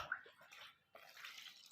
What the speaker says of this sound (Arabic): بعد كده معايا ميه برضو هزود